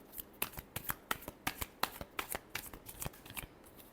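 A deck of tarot cards being riffled and shuffled by hand, a quick series of sharp, crisp flicks in an irregular rhythm, close and fairly quiet with no talking.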